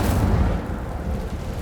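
Incendio fire spell cast in the video game Hogwarts Legacy: a dense, low rumbling burst of flame, loud at first and then holding as a steady roaring whoosh for under two seconds, with no voices.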